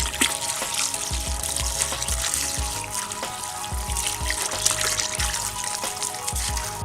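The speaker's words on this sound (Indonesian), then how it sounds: "selanjutnya cuci terong hingga bersih." Running tap water splashes steadily over sliced eggplant being rinsed in a sink, with a continuous trickle and irregular knocks and clatters of the pieces, close and fairly loud, no talking.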